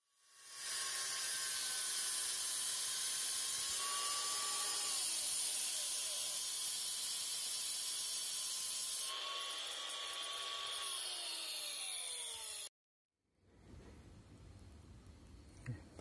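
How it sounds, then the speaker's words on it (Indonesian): An angle grinder fitted with a metal diamond wheel cuts an iron plate, giving a loud, sustained high-pitched whine and hiss with shifting tones for about twelve seconds. It stops abruptly and is followed by quieter background noise. "Kita coba yang metal diamond wheel."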